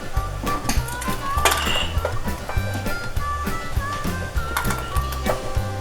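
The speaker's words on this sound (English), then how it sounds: "What I like to do is mix this up and then give me a ladle full." Homemade strawberry jam, made without pectin, is stirred and ladled into a jar through a canning funnel, with close metal clinks and scrapes of ladle against pot and funnel in an uneven rhythm.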